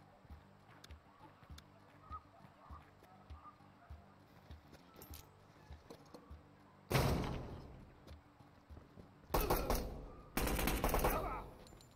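In the tactical shooter Door Kickers 2, quiet ticking and footsteps give way to a loud grenade blast followed by two bursts of heavy gunfire, each sharp and dominant.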